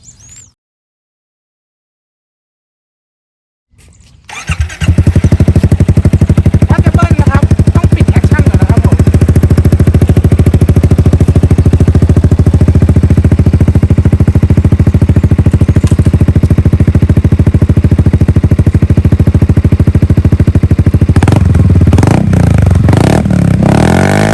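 A 2021 Yamaha Xmax300 scooter with light modifications starts up after a few seconds of near silence, then idles and revs steadily and loudly at close range, with no talk.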